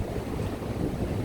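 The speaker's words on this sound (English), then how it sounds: "It's been so windy today." Strong wind roars across a microphone on a stormy UK beach while surf crashes nearby, a steady, loud, unbroken wash of noise with no voices.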